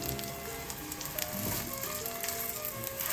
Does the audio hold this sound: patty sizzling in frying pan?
yes